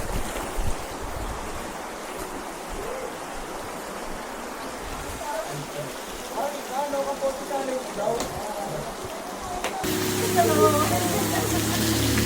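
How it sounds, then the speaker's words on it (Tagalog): Heavy rain pours down steadily during a ride toward Kaybiang, a dense wash of noise with wind buffeting, voices talking underneath, and a louder rushing surge near the end. "Malakas ang ulan."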